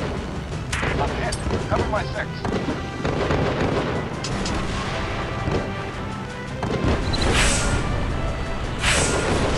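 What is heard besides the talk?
heavy gunfire and explosions in the video game War Wings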